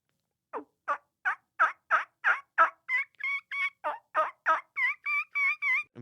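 A hunter's mouth call imitates a lost young turkey with a steady series of about fifteen close, clear, whistled yelps that rise and crack in pitch, heard alone.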